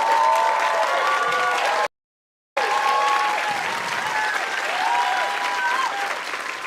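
A stand-up comedy audience applauds and cheers loudly, dense clapping with whoops that cuts out briefly, then resumes at full strength and carries on steadily.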